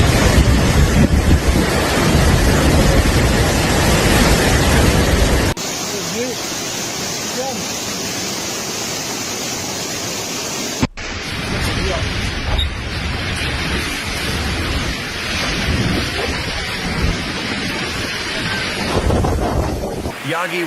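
Typhoon Yagi battering Hainan with storm wind and rain, a loud, constant roaring wash of gusts and downpour that shifts in intensity, heard close to the microphone.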